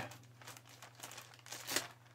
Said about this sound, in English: Let's open the bag.